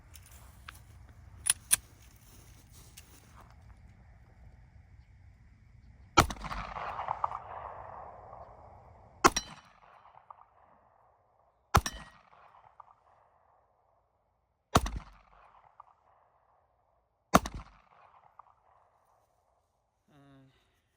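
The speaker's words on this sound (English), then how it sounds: "I'm gonna try to shoot it without the gloves a couple times to see if I can get a better grip on it." Five sharp, loud pistol shots ring out a few seconds apart, fired without gloves, each with a brief echo. Faint talk and handling noise come before the first shot.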